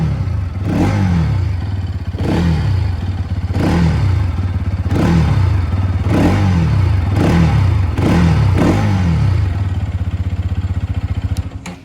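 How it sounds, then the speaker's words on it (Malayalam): Bajaj NS 200 motorcycle with an underbelly exhaust, revved repeatedly at idle: about seven sharp throttle blips rise and fall in a steady rhythm over a continuous low engine burble, loud and close, with no talk. "ഇനി ഇതിൻ്റെ ജസ്റ്റ് എക്സോസ്റ്റ് നോട്ടോടെ ഒന്ന് കേൾപ്പിച്ചു തരാം"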